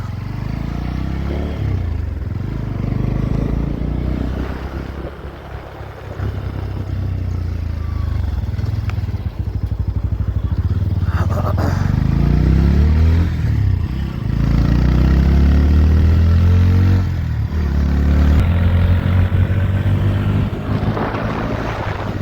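A motorcycle rides a highway at night, passing an empty toll plaza, its steady engine drone continuous and close, with buffeting wind noise and brief dips in level.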